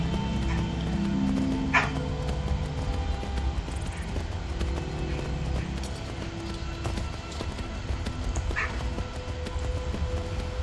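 Horse hooves in a video game, a continuous clip-clop of a horse moving over ground amid steady game ambience and a few brief tonal effects, with no talking.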